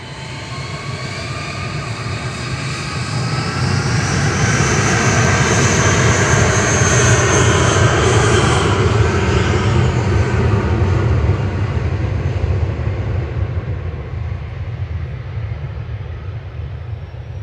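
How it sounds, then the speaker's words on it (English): A TUI Boeing Dreamliner jet departs Manchester Airport bound for Cancun, its engines building to a loud, broad roar that swells and holds before slowly easing, with no talk over it. "we've also got a TUI Dreamliner coming out. There it is. Heading off to Cancun."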